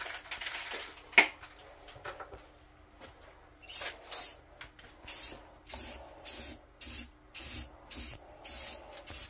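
Aerosol spray paint applied to a rusty wheel in short, repeated bursts of close hiss, about eight evenly spaced sprays, after a few seconds of quiet handling and a single sharp click.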